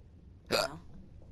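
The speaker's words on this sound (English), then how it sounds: "I got the hiccups though." A single sharp hiccup, brief and close, standing out against a quiet background with no other sound.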